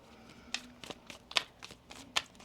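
A deck of tarot cards is shuffled in a quiet room: several quick, crisp riffles and snaps come close up in an irregular rhythm, a handful of sharp bursts over soft rustling.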